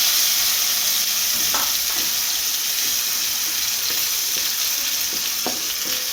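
A spice paste hits hot oil with whole spices such as cinnamon for an egg curry, raising a loud, even sizzle and crackle. Occasional stirring scrapes come through near and steady, with no voices.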